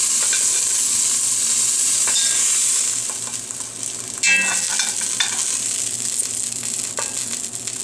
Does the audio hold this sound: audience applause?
no